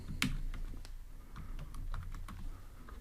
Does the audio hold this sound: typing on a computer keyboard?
yes